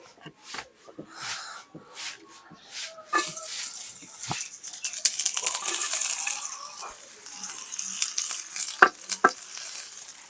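Sliced onions frying in a home kitchen pan while noodles are cooked, a broadband sizzle rising after a few seconds and holding steady, with scraping stirs and light clinks over it and some quiet background voices.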